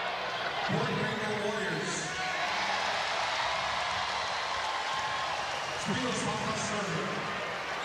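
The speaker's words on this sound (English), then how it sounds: "So the boos turn into uproarious applause." A packed arena crowd at an NCAA men's volleyball match between UC Irvine and Hawaii roars steadily, booing giving way to loud, sustained applause, with a commentator's voice running over the din.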